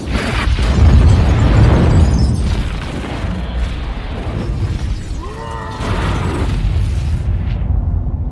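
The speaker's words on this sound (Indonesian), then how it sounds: "Namun dia dan segala sesuatu di daerah itu meledak." A large explosion in a film, a sustained roaring blast with debris and rumble filling the scene, loud and dense throughout with a brief whistling tone near the end.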